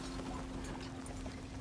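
Horse hooves clip-clop steadily in Red Dead Redemption 2, a fast, even rhythm of close, moderately loud hoofbeats over a constant low hum, with no voices.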